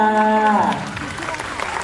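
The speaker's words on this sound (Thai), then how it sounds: "ขอเสียงปรบมือหน่อยค่ะ" A voice speaks briefly, then a short burst of applause from the audience follows at a Thai press conference for the series A Chance to Love 2.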